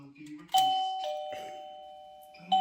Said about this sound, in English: So they will ring the bell again and again,